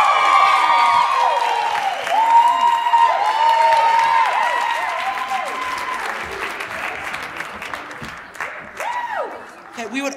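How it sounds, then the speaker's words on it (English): Sustained audience applause and cheering at a school winter musical, loud and dense at first, tapering off gradually with scattered claps toward the end, with a few voices calling out over it. "So a big round of applause."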